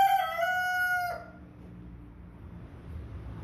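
A young 18-week-old rooster gives a single loud, close crow lasting about a second, followed by quiet farmyard background.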